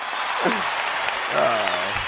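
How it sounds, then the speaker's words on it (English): Steady applause from a crowd fills the clip, dense clapping at an even level with voices faintly audible beneath it. "I want that applause"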